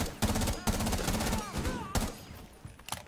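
Gunfire in the tactical shooter Rainbow Six Siege rattles in quick bursts of sharp cracks, moderately loud and dense at first and then thinning out, with a voice briefly audible in the background.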